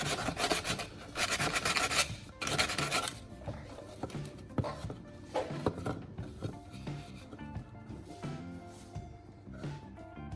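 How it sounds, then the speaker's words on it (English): Sandpaper rubbing along the edges of a cut plastic bottle ring, a soft raspy scratching in quick back-and-forth strokes, close and fairly quiet, with no talking. "I'm using a piece of sandpaper to further smooth the edges of the plastic ring"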